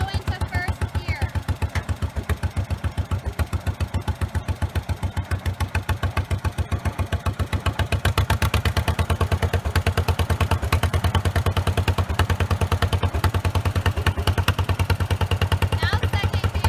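A truck engine idles and then drives off in first gear during a truck driving competition, a steady close rumble that grows louder midway. A voice talks over it.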